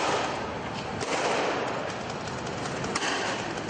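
Street protest clashes in the Turkish capital, with fireworks set off amid rocks and Molotov cocktails thrown at police: a dense, loud roar of crowd and noise with a few sharp bangs breaking through.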